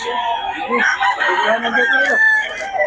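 A Lemon Sweater gamefowl rooster crows loudly and close, one full drawn-out cock-a-doodle-doo call with a rising and falling shape, with light background noise around it.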